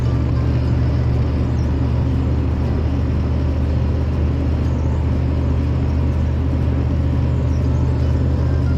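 A 31-year-old Ford F250 truck labours up hills on a highway, its engine a steady, loud low rumble with road noise that holds constant throughout, no voices.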